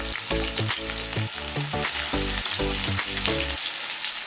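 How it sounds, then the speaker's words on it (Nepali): Onions for a homemade fish curry frying in a hot pan, with a loud close sizzle broken by quick rhythmic stirring and scraping strokes, no one talking. "र यो प्याज हालेपछि झन्डै 1 मिनट जस्तो यसलाई 1 मिनट जस्तो यसलाई फ्राई गर्नुपर्छ"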